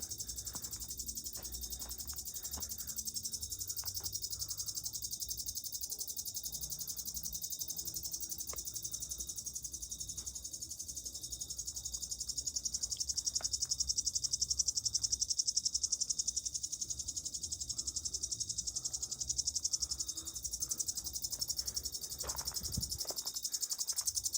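Crickets chirp steadily at night in an outdoor setting, a dense, continuous high-pitched trill that holds evenly throughout with faint low rumble beneath and no talking.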